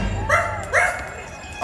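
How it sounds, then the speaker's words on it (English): A dog gives two clear, close barks at a Halloween fireworks show, short yips spaced apart over a low rumbling background crowd. "Oh, Zero! Here, boy! Zero! Where is that dog?"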